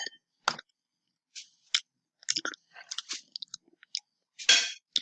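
Someone eats mango pudding in short, separated bursts of wet chewing and smacking, close to the microphone, with quiet pauses between bites.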